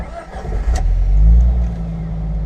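A manual car pulling away on a hill with the clutch being let out, its engine swelling into a loud, sustained low rev and holding steady as it climbs; a brief voice passes early on.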